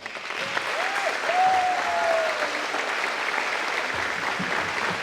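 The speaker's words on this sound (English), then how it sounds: "Please give a round of applause to our new inductees." An audience claps steadily for new inductees at Cigarroa High School's 2023 Toro Legends ceremony, a dense, even wash of applause filling a large room throughout, with a faint voice briefly audible.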